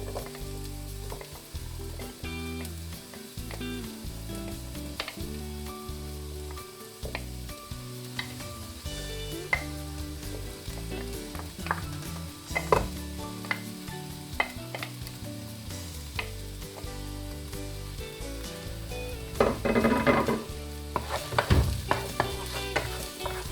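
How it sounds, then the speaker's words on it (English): Spring onions and sweet pepper frying in a pan for shakshuka, a continuous close sizzle with frequent scraping and stirring clatter from a utensil, with no talk. "I'll just go and add nearly my final ingredients, my spring onions and my sweet pepper"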